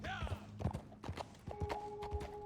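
Horse hooves clip-clopping in Red Dead Online, a short run of close hoofbeats mixed with game sounds, a bright sustained tone and a voice talking.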